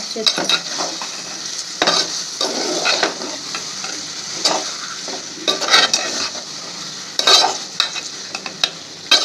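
Chicken frying in gongura gravy on high flame, a constant sizzle punctuated by bursts of stirring scrapes and clanks of a spoon against the pan, close and loud.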